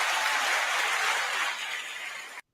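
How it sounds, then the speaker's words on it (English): Audience gives a round of applause, a dense, loud wash of clapping that fades slightly before stopping abruptly. "Give a round of applause for Jamel, y'all."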